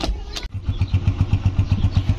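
A motorcycle engine starts after a brief crank and settles into a steady, close idle with a regular pulsing thump.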